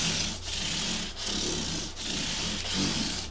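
Guitar frets on a 1987 Gibson J-30 are polished with 400-grit Scotch-Brite on a foam-padded scrub block, making a close, steady rhythmic scrubbing of four back-and-forth strokes about three-quarters of a second apart.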